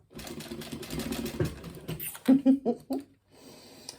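Home sewing machine stitching a small crossbody bag, with a steady mechanical whir for about two seconds and then several short stop-start bursts of stitching, close and fairly loud.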